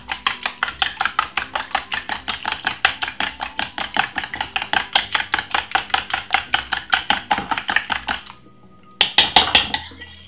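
Fork or whisk beating egg in a bowl for blueberry muffin batter, a fast steady run of sharp clinking strokes, close and crisp, pausing briefly before a final burst.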